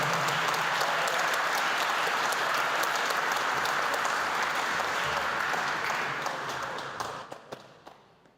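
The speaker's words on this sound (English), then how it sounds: "a big round of applause for all our incredible councillors" A hall audience applauds councillors at a governing body inauguration ceremony, dense sustained clapping that fades out over the last couple of seconds.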